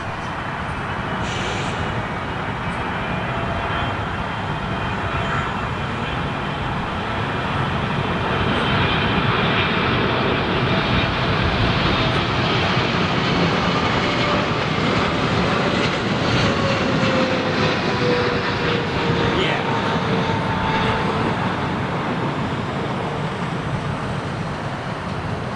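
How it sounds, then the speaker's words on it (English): Air Canada Boeing 777 jet at London Heathrow Airport, a loud sustained engine roar that swells and holds steady for the whole stretch, with no talking. "Bandit 777 Air Canada."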